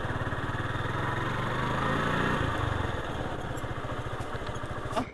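Motorcycle engine running while riding, a steady close thrum with a brief rise in revs before settling back to an even beat.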